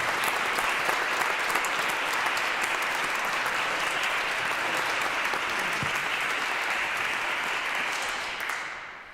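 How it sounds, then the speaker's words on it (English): Applause for parish member Ken at an annual vestry meeting: a room full of hands clapping steadily and loudly for about eight seconds before tapering off at the end. "I want a huge round of applause for this man and what he did this past year"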